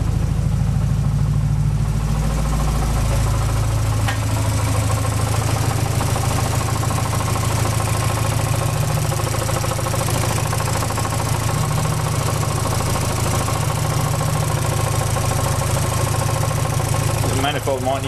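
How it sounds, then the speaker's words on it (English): Turbocharged Mazda MX5 engine idling with a suspected exhaust manifold leak, a loud, steady rumble with rough pulsing throughout and no break in the engine sound. "Bit of an exhaust leak maybe."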